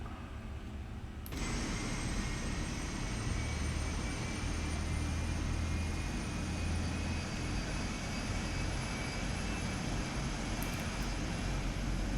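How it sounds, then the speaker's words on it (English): Boeing 777-200LR jet engines running in the PMDG flight simulator after pushback, a steady loud roar with a faint high whine that begins abruptly after a second of quiet and holds without a break. "we have a good start on the left engine, starting the right engine"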